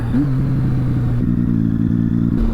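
Triumph Street Triple R motorcycle engine droning under load while riding, a steady mid-pitched hum that holds its pitch, loud and close, with no voices.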